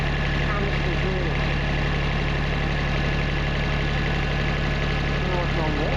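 A Bobcat loader's diesel engine idles steadily and loudly up close, a constant low rumble throughout with a voice speaking faintly over it.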